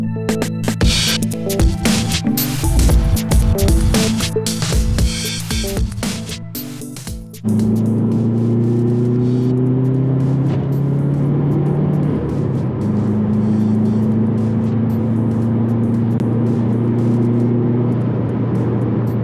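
A 2007 Subaru WRX with mild exhaust and intake mods drives on roads near Burlington, Vermont. A loud, busy burst of engine and road noise fades into a steady interior drone as the engine note rises and falls.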